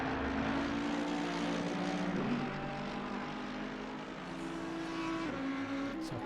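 GT3 race cars lapping the Hungaroring in Assetto Corsa Competizione, including a Jaguar, drone with a continuous high engine tone that shifts pitch through gear changes, loud and steady with no talking.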